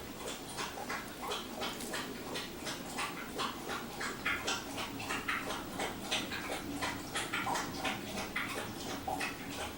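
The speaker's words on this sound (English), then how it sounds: "My dog is drinking water." A pet dog drinking water, with quick, rhythmic lapping splashes repeating steadily and close by, a wet flicking pulse several times a second that continues without pause and with no talk.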